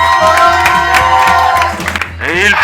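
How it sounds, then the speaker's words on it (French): Audience applause and cheering for the finalists at a beer-sport New Year battle event, a loud sustained crowd roar with clapping and a rhythmic thumping beat underneath, an amplified voice briefly rising over it near the end. "Applaudissements pour eux."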